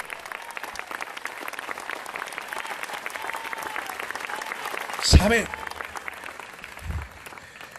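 Congregational applause during a Spanish-language church sermon, a steady, moderate clapping that runs throughout beneath a brief spoken word, with a loud thump near the middle and a low bump toward the end.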